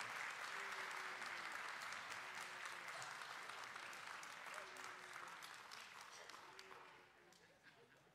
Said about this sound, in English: Let's give them a round of applause as they go out this morning.